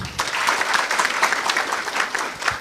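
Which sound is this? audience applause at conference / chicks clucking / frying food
audience applause at conference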